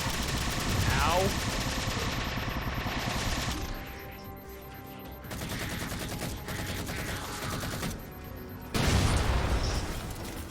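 Bursts of Promethean weapon fire from the Halo 4 video game, a rocket-launcher-like gun, crackle in loud rapid volleys with booming blasts over dense game noise, pausing briefly midway before a sharp loud burst near the end.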